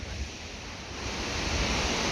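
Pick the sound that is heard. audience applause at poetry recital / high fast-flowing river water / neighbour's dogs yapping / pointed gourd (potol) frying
high fast-flowing river water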